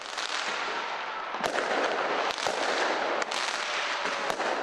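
New Year fireworks burst over the Auckland Sky Tower, a dense continuous crackle of firecrackers punctuated by several sharp, loud bangs at irregular intervals.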